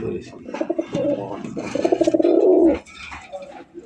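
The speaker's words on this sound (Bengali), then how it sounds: "বাংলাদেশের বর্তমানের জনপ্রিয় হট কালেকশন লাল কালারের কালারিং রাসগোল্লা কবুতর" Red Rasgolla fancy pigeons at a farm give a close, repeated throaty coo in rolling pulses, with a brief voice nearby.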